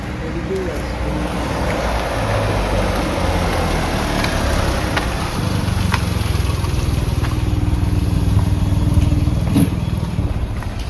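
A car engine runs steadily and close by as the vehicle pulls away, a low continuous rumble that builds slightly toward the end.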